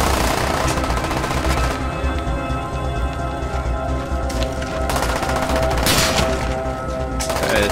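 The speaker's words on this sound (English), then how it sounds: "Throwing the decoys out." Decoy grenades in Black Ops 1 rattle off fake gunfire in continuous, dense bursts. The loud crackle of rapid shots layers with other battlefield noise across the whole stretch and never drops off.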